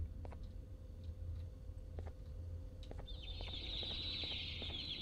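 Birds in the video game Garten of Banban 2 give soft, scattered clucks and clicks over a steady background hum, joined near the end by a higher sustained chirping tone, with no talk.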